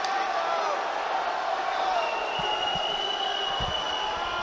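Arena crowd at a judo Grand Slam in Tbilisi, a steady murmuring roar of spectators with a few thuds and scattered reactions, heard under continuous commentary voices.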